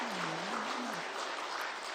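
A church congregation applauds the choir during a Christmas worship service, a steady wash of many hands clapping at once, with a brief low voice under it at the start.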